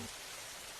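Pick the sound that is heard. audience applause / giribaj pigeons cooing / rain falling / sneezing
rain falling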